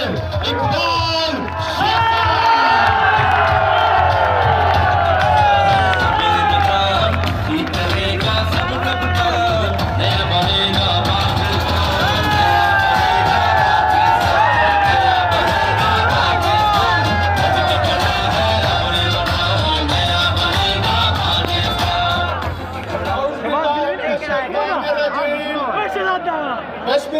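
A large crowd at a PTI political rally in Lodhran roars with sustained cheering, whoops and yells, loud and dense for most of the stretch before it drops off near the end.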